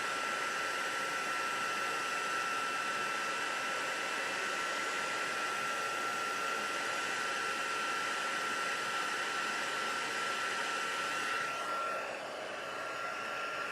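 A small heat gun blows hot air in a steady, fairly loud hiss with a constant whine, running alone throughout and shifting slightly near the end.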